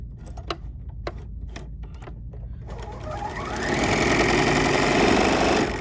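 An L460 sewing machine stitches a bridal veil with blusher: a few crisp mechanical clicks and ticks come first, then the motor spins up into a loud, steady, close-up whirring hum.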